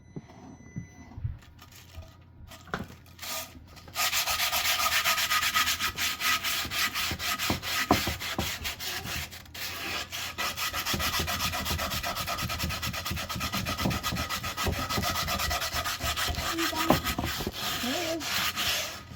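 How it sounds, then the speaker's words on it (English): Crumpled aluminum foil scrubs rust off a cast iron pan, a harsh, continuous rasping rub that starts after a few quiet seconds and then carries on steadily and close, with brief stronger strokes. "you can feel where the rust is at because it kind of grabs the foil. So I hit that spot a little extra hard."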